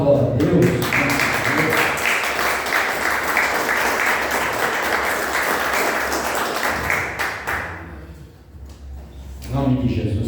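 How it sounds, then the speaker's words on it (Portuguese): A standing church congregation claps loudly and steadily for about eight seconds, a dense wash of many hands that fades out, after which a voice begins. "As palmas, glória a Deus."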